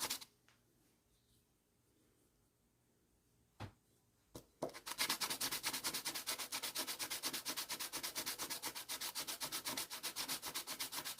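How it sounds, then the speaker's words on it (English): A turned wooden oil diffuser being sanded flat, with steady rapid rubbing strokes starting after a few quiet seconds and a couple of knocks, continuing loud and rhythmic to the end. "Sand that flat and it will be just fine."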